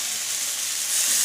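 Tomatoes and shredded cabbage frying in a pan, a continuous bright sizzle that swells slightly louder near the end, close and steady, with no talking.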